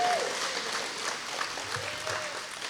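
A morning breakfast audience claps together, a short burst of moderate applause that continues fairly evenly from start to finish.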